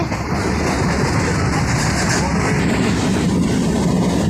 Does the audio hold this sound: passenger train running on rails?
yes